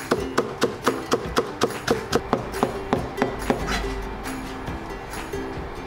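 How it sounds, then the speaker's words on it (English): A knife thinly slicing halved green onions on a cutting board makes a steady run of sharp, evenly spaced chopping taps, near and clear, which slow and fade toward the end. "Let's slice the green onion thinly."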